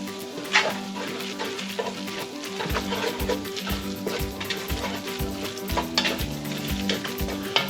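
Flour being stirred into sizzling bacon grease in a pan, a steady close frying hiss broken by repeated scraping strokes of the utensil, with no voices.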